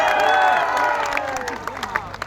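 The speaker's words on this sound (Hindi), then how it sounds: "देखो जोरदार ताली से राजू सिंह का स्वागत।" Crowd at a political rally in Sahebganj applauding and cheering a candidate loudly, dense clapping and shouts that fade after about a second into scattered claps and voices.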